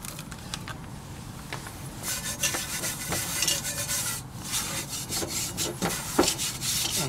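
Flour being rubbed around the inside of a Petromax cast iron Dutch oven, with close, dry scraping and brushing strokes in an uneven rhythm that grow busier and louder after the first couple of seconds, with no talking.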